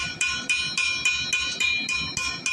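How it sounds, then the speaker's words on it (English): A blacksmith's hammer lightly planishing a forged steel longhorn steer horn rings out in ten evenly spaced metallic strikes, each bright ping decaying into the next, close and clear with no talking. "I'm just going to go back down and just kind of lightly planish. Just kind of smooth up."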